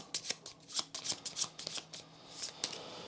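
Playing cards for the Legacy of Yu board game being shuffled, a quick series of crisp riffling bursts and soft slaps close by, with no talking.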